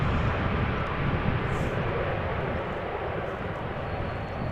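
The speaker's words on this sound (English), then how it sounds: "Air Europa Dreamliner arriving from Madrid" An Air Europa Boeing Dreamliner airliner arriving from Madrid at Amsterdam Schiphol in crosswind conditions makes a broad, steady jet roar that holds at a fairly even loudness throughout, heard from some distance.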